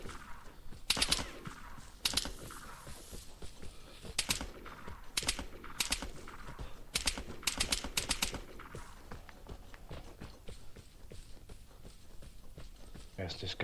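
Gunfire in the video game Vigor, with sharp shots cracking in short bursts and single reports scattered across the stretch, mid-distance, while a voice talks over it.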